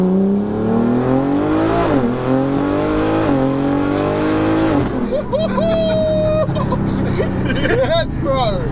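A tuned BMW pulls hard in second gear with a loud, climbing engine roar that shifts pitch twice before a whining, boost-heavy surge, heard from the cabin while occupants talk excitedly over it.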